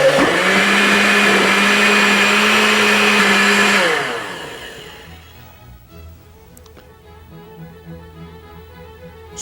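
A countertop blender whirs loudly and steadily, mixing salty lassi with water and freshly ground roasted cumin, then winds down and stops after about four seconds, leaving faint clinks and quiet room noise.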